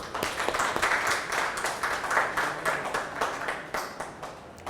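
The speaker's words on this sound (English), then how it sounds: "Please give them a clap" Students in a university lecture session clap for classmates, a lively round of uneven hand claps from a group in a room, sustained for several seconds and easing toward the end.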